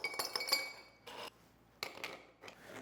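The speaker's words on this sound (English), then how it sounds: "We're gonna add some ice to a glass" Ice cubes drop into a glass with a quick cluster of bright clinks and rattles, then a couple more separate clattering drops, close and crisp against a quiet background.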